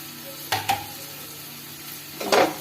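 Ground coriander, cumin and ginger paste fries in a pan for a banana-blossom dalna, with a soft steady sizzle and a few sharp scraping stirs, one early pair and a longer burst near the end.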